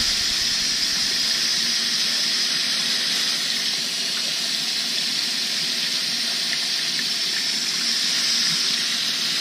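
Steady tap water runs and splashes continuously into a sink while wild greens are rinsed under it with tongs, a loud, close, unbroken hiss with no talking.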